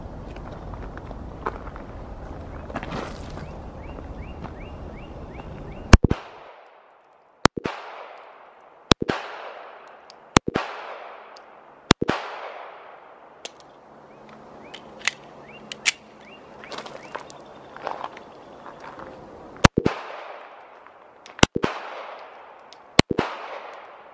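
A Glock 42 pistol fires at a 15-yard target in two groups of sharp, loud gunshots with pauses between them, and shuffling footsteps and faint reload handling come between the strings of shots.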